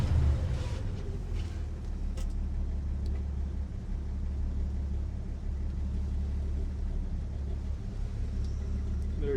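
A 1954 Chevy 3100 pickup with a 235 inline-six, new carburetor and fresh tune-up, idles in a steady low rumble close by, smooth and even after a brief louder start.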